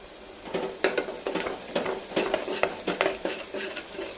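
Turmeric being stirred into mutton in a cooking pot, heard as a steady rhythm of metal spoon scrapes and knocks against the pot over a light frying sizzle, close up with no speech.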